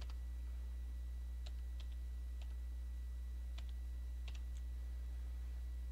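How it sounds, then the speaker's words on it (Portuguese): Sparse, quiet clicks of computer keyboard keys as a CPF number is typed, a handful of separate keystrokes over a low steady electrical hum. "Deixa eu estar tá digitando aqui o CPF dela."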